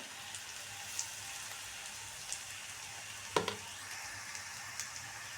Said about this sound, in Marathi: हे छान असं परतून घ्यायचं आहे